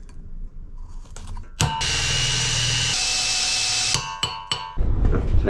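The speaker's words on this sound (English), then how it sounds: "So I'm going to have to drill it from behind." Power drill boring a hole in an Edwardian lamp bracket on a ratty roadster, a close, steady whine of about two seconds with clicks and knocks before and after it.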